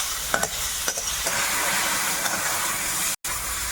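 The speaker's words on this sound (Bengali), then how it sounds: "চিংড়ি মাছটা এর মধ্যে দেবো এবার এটা একটু হালকা নেড়ে ছেড়ে নেবো" Shrimp with onion, ginger and garlic sizzling and frying as it is stirred, a steady broad hiss with a few soft scrapes, close and continuous without talk.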